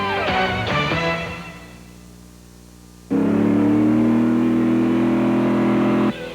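A 1994 Winston Cup race car fitted with a Dynamax muffler revs loudly: two quick throttle blips, a brief drop toward idle, then a sustained, steady high rev lasting about three seconds before cutting off.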